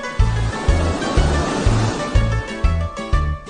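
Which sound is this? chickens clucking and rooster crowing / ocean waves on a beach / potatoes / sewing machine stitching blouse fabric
ocean waves on a beach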